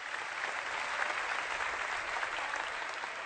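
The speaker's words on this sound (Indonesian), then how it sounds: "Tepuk tangan buat pesantren Zainul Hasan." An audience applauds a pesantren, Zainul Hasan, at an Indonesian religious TV gathering, with steady, dense clapping that holds evenly throughout without pause.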